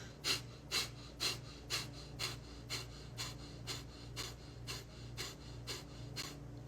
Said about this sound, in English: what you do is you breathe out of your nose and you snap your belly in